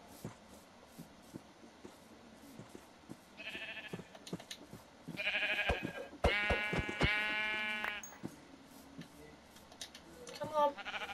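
Minecraft sheep bleat, several short, clear, wavering calls clustered together, over quiet keyboard-like clicks and a player's talking.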